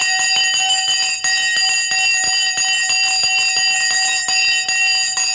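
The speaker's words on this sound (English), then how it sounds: "the bell has now gone" Stock market closing bell ringing loud and continuous, a rapid electric clanging trill with bright metallic overtones that keeps going without pause.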